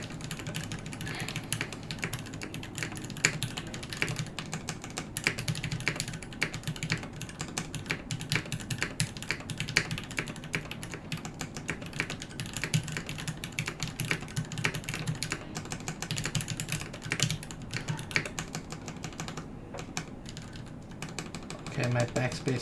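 Continuous rapid typing on a KBD8XMkii mechanical keyboard with an aluminium plate in top mount, dense irregular clacks close up, with occasional speech in the background.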